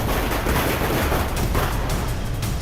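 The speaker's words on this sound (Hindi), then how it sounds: "ये ठाणे है एकनाथ शिंदे का गढ़, जहां पर जमकर आतिशबाजी हो रही है।" Fireworks burst without pause in the streets of Thane during a political celebration, a dense, loud crackle and rumble of many blasts blurring into a steady roar.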